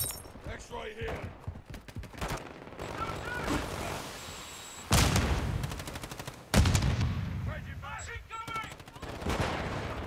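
Gunfire and rocket-launcher blasts ring out in the video game Call of Duty: Modern Warfare II, with rapid shots and two heavy explosive booms, and a voice talks between them.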